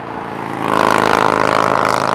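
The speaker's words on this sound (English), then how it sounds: "Sorry for that motorcycle there." A motorcycle engine on a road swells in, then holds a loud, steady buzzing drone as it passes, with no voices over it.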